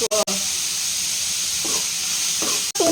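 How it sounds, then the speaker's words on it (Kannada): Cabbage and vegetables fry in a hot pan for homemade noodles, giving a steady loud sizzling hiss with a few brief stirring clatters, and no one speaks. "ಮತ್ತೆ 2 ಮಿನಿಟ್ಸ್ ನಾವು ಫ್ರೈ ಮಾಡ್ಕೊಳ್ಬೇಕಾಗುತ್ತೆ"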